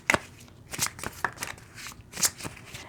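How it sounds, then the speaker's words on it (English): Moonology oracle cards are handled and shuffled up close in quick papery riffles and slaps with uneven pauses, and no voice is heard. "I'm going to pull one of these Moonology cards."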